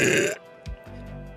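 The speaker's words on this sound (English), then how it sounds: "These burps are insane." A woman's loud, deep burp rumbles for about a third of a second, close to the microphone, followed by a short low grunt and quieter breathy noise.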